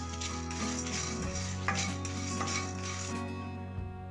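Cumin and fennel seeds are dry-roasted in a pan for pepper chicken, with a steady soft sizzle and scraping stir against the metal, close and continuous with no speech.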